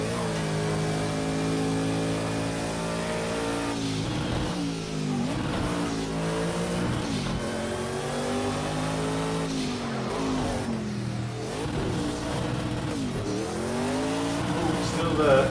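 A powerful race car engine in the Project Cars 2 racing game revs hard, its pitch climbing and dropping through repeated gear changes as a loud, steady roar fills the scene.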